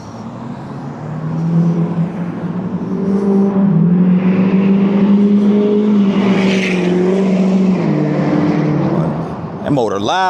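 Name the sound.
loud car motor passing on the street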